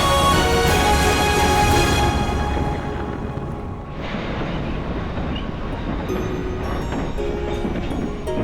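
Yukon gold rush era railroad train riding along tracks near the Skagway River, a steady loud rumble and clatter of wheels on rails heard from an open platform, continuous with shifting tone partway through.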